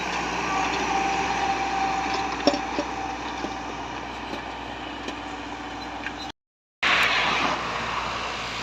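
A tractor pulling a disc harrow with 26-inch discs gives a steady engine drone throughout with faint clanks and rattles, briefly cutting out before resuming at a similar level.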